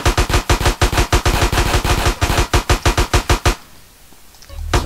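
Rapid automatic gunfire from the video game GTA San Andreas, loud and close, rattling in dense bursts for about three and a half seconds before stopping abruptly, followed by a short quiet stretch.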